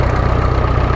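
Tractor engine running at a steady idle, a loud close low rumble with even rhythmic pulsing and no voices.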